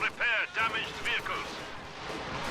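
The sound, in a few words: Stuka dive bomber firing, from a video game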